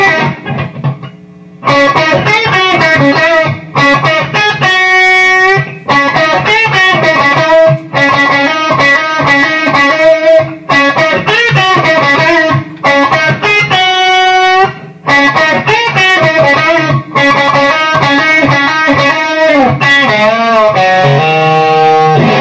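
Drum and guitar tracks play back from a Zoom R24 recorder, loud and continuous: distorted, chorus-tinged guitar chords sound over a steady drum pattern, with a few short breaks between phrases.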